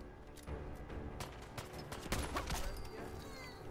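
Gunfire in a Fallout 4 firefight: rapid, sharp shots crackle in bursts at a moderate distance, fairly faint, over a low background with no talk.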